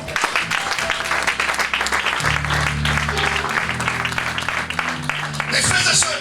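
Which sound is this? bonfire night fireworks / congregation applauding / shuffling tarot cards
congregation applauding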